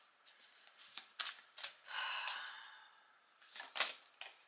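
Tarot cards shuffled and slid from a deck, a run of soft papery riffles and flicks with brief pauses, close and quiet with no talking.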